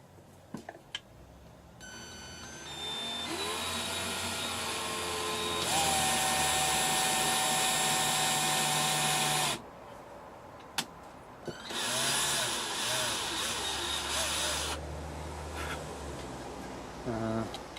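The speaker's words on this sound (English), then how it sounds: "drilling pilot holes." An electric drill bores pilot holes for a new bridge on a refurbished SG-style bass copy, its steady motor whine running in two long sustained bursts with a short pause between, close and fairly loud.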